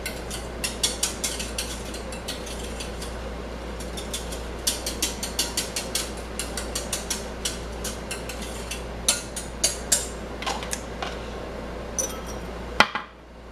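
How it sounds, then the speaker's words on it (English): A metal whisk clicks and taps against a pot while rennet is stirred into thickening milk, producing a steady series of light, sharp ticks that grow louder toward the end, ending with a single louder clank. "add your rennet. Whisk that in there"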